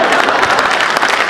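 An audience at a Hindi poetry gathering applauds, with steady dense clapping filling the short moment at moderate loudness.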